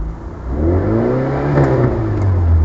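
A 1971 Austin 1300GT engine runs just after starting, a close, loud mid-pitched hum with a slight rise in revs and light mechanical clatter, no voices.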